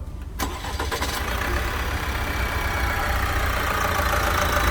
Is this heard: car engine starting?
yes